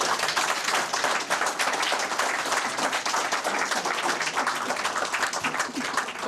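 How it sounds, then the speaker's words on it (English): An audience at a Democratic gubernatorial candidates' forum applauds, dense sustained clapping from many hands at steady loudness for several seconds. "let's have a round of applause for our candidates for governor."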